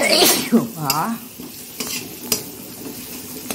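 Egg curry is stirred in a pan to keep it from sticking: a few close scraping strokes of a utensil over a soft, continuous simmering sizzle, with no voices.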